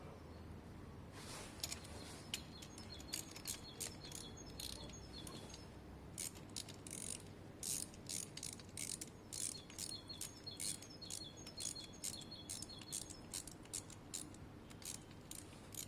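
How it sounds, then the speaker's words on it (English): A torque wrench ratchets while torquing the cylinder head of a WK RT 125 motorcycle, giving quiet bursts of quick metallic clicks that repeat in a steady rhythm over faint background noise. "So this is a head gasket torquing,"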